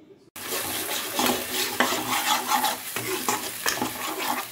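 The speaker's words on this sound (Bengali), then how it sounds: "এইবারে লো থেকে মিডিয়াম হিটে রেখে মশলাটা আমি 5 মিনিটের মতো কষিয়ে নেব।" A spice paste sautés in a pan over low to medium heat for a cauliflower dish. It begins abruptly with a steady sizzle and repeated close stirring scrapes, and no one talks.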